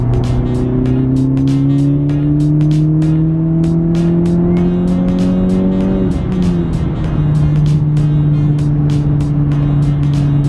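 A Honda Civic Type R fitted with a Hondata tune pulls hard in fourth gear, its engine note climbing steadily and loudly before a sharp shift change and a lower settled drone, with no talking.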